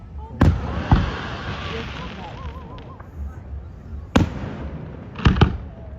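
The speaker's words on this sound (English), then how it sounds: "Fireworks going on too." Several sharp firework bangs burst at irregular intervals, some in quick pairs, over a busy background of crowd noise and chatter.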